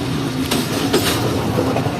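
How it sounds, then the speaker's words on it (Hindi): A Jand passenger train rolls along main line 2 toward a junction, giving a steady, close rail rumble with faint wheel clatter and no voices. "हमारी जो जंट पैसेंजर है वो तो ऑलरेडी मेन लाइन 2 पर ही आ रही है"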